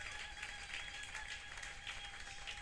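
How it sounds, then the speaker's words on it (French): A church congregation applauds for the glory of the Lord, with steady massed clapping at moderate volume and a faint sustained tone running underneath. "Acclamons pour la gloire du Seigneur."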